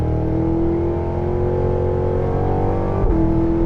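A 2023 Cadillac Escalade V, a huge luxury SUV, accelerates hard with a loud, steady engine roar that climbs in pitch, then drops sharply at a quick gear shift near the end before pulling on again.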